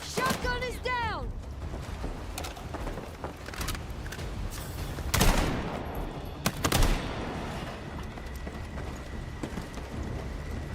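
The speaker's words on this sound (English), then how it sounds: "I'm under fire!" Gunfire crackles through a Battlefield 6 match in scattered shots and short bursts with a couple of louder cracks, over busy game noise and people talking.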